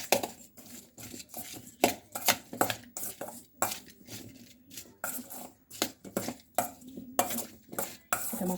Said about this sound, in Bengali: এবার ভালো করে এটাকে মিশিয়ে নেব।